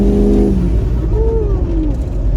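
A Ford 6.0L Power Stroke diesel truck fitted with a bigger turbo roars loudly up close, its engine note climbing while a rising turbo whistle sweeps through the steady, heavy drone.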